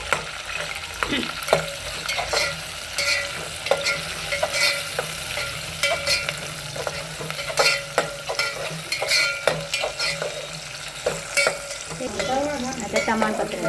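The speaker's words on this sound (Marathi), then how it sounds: "आता टॅमॅटो टाकले, हां टॅमॅटो टाकला भाजायला।" Tomatoes roasting in a pan for village-style masala rice, with a steady sizzle and repeated stirring scrapes and clinks of a spoon against the pan, close and clear with no talk.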